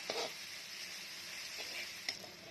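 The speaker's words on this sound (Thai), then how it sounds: "อันนี้เราผัดสามเกลือก่อนนะครับ มีกระเทียมพริกไทยรากผักชีนะครับ ผัดให้หอมเลยนะครับ" A paste of garlic, white pepper and coriander root is stir-fried in a pan as the base for Thai rice soup. It gives a steady, soft sizzle with a few light clinks of a utensil against the pan.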